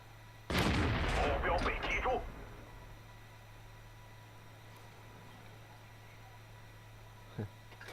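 A single loud tank gun shot from a Type 59 in World of Tanks booms up close, followed by a long rumbling decay and quiet background hum, with a faint small click near the end.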